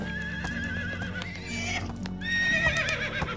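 Horse neighing in the video game Medieval Dynasty near a stable, loud whinnies and snorts over clip-clopping hooves and a continuous game background.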